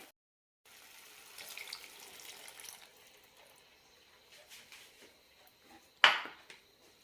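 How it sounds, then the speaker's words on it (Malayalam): Water is poured into a pan of simmering onion curd curry, a gentle rushing splash lasting a couple of seconds and then fading to a low trickle, followed by a sharp clank of a utensil near the end. "സവാള വേവാനുള്ള വെള്ളം കൂടി ഒഴിക്കാം"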